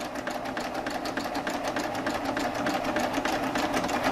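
A Baby Lock Triumph serger runs steadily at its longest stitch length with the differential feed raised, giving a continuous, close, rapid mechanical whirring and chattering with no pauses.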